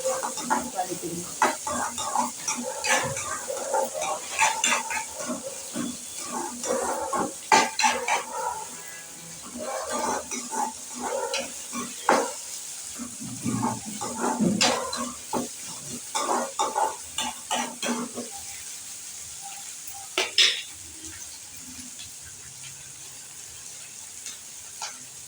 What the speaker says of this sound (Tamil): வெங்காயம் பொன்னிறமாக வதக்கிடுங்க.